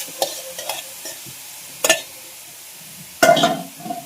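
Jackfruit shoots dropped into a spice paste frying in oil, giving a few short sizzling bursts and stirring scrapes with quiet gaps between them, the last burst the loudest.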